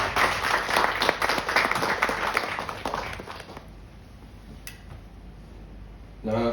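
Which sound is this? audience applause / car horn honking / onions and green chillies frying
audience applause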